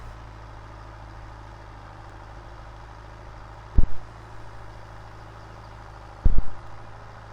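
A tractor engine idles steadily in Farming Simulator 22, a low continuous drone with two brief louder thumps partway through and no talking.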